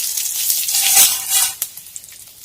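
Dried red chillies sizzle in hot mustard oil in a kadai along with bay leaf and five-spice seeds, a steady close frying crackle that swells and then thins into a few sharp pops.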